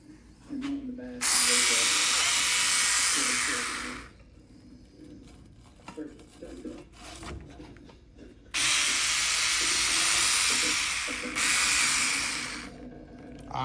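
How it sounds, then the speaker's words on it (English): A Dremel rotary tool buzzes at high speed while cleaning the inside of a Honda Rancher 350 ATV part, in two sustained bursts of about three seconds each, with quiet handling noises and low talk between them. "we're gonna take a Dremel tool and clean the inside"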